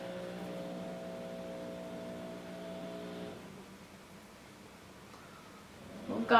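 Tree trimming in a garden below gives off a steady, distant motorized drone that hums for about three seconds, then cuts out and leaves quiet background noise.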